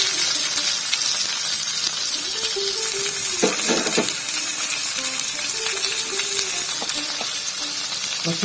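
Cut green chillies hit hot oil in a pan, giving a steady loud sizzle throughout with occasional clinks and stirring knocks over it.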